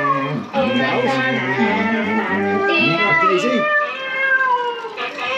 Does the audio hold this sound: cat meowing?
yes